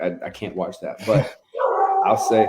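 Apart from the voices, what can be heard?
dog barking in the background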